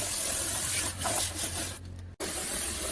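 Lanolin undercoating sprays onto the underbody of a Renault Samsung SM5 with a close, hissing rush that swells and fades in bursts, then cuts out briefly before resuming.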